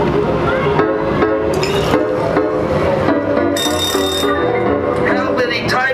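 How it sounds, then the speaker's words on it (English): A bright bell rings in quick repeated bursts, loud and close, over a busy background with people talking in a playful scene about sneaking into Scary Farm. "How many times have I told you not to ring that bell?"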